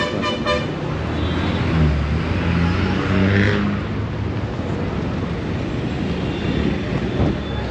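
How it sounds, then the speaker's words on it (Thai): Busy city street beside a train station in Sri Lanka: a loud, continuous wash of traffic and crowd noise with a short horn toot near the start. "อันนี้เป็นสถานีรถไฟเนาะทุกคน"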